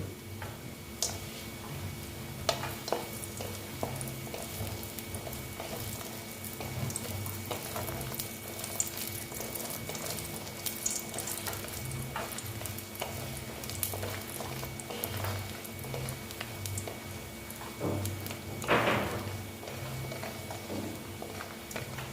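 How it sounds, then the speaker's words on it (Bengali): Sun-dried lentil dumplings (bori) fry in hot oil in a pan for a Bengali red amaranth dish, giving a steady close-up crackle and bubbling with scattered sharp pops and one brief louder clatter near the end, with no talk. "এবার আমি বড়িটা ভেজে নিচ্ছি"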